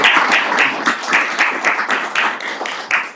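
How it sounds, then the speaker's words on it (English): A commissioners' court audience gives a round of applause for Andy, close and fairly loud, with uneven clusters of hand claps surging and easing across a few seconds. "So let's give Andy a round of applause"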